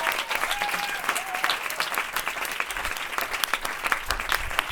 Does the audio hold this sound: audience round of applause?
yes